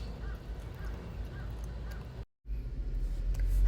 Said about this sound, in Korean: 하늘의 까마귀가 깍깍거리며 날아가고 있었다.